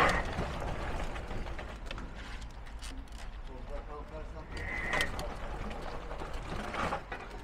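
An electric ATV with a 1500-watt motor and 150 Nm of torque pulls away from a standstill, a thin rising electric whine surfacing briefly beneath steady nearby talk and some mechanical rattling.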